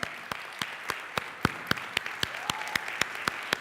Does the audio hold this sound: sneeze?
no